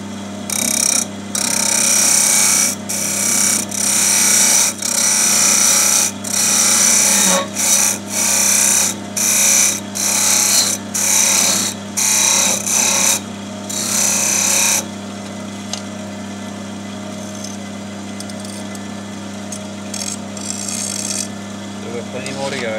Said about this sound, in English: Go along with the roughing gouge, take a bit of meat off,